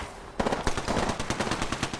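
Rapid automatic gunfire in a ranked online shooter game, a close, loud burst of evenly spaced shots after a brief lull.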